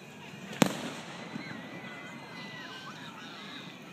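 Fireworks at a Fourth of July celebration: one sharp, loud bang rings out early, then faint crackles and whistling trails follow over a murmuring crowd and distant voices.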